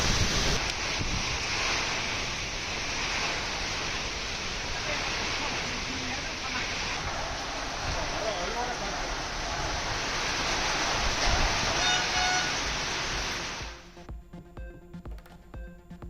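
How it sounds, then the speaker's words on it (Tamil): Strong cyclonic wind roars with heavy rain near Melur, Madurai district, India, in a dense, constant rush of noise that drops away abruptly near the end. "சூறாவளி காற்றுடன் பெய்த கனமழை"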